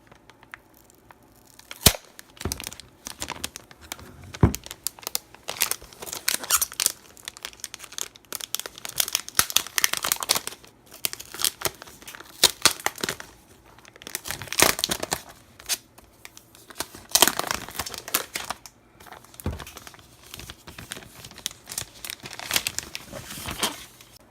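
Protective plastic film peeled off a Dell XPS 13 laptop: irregular crackling and crinkling bursts with brief tearing rips, close up, stretching over about twenty seconds with short pauses and no talking.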